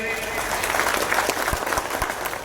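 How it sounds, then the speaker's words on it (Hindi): Loud, dense applause from a crowd at a party workers' conference welcoming a speaker, steady clapping throughout with no pauses. "इनके लिए जोरदार ताली से इनका स्वागत करें।"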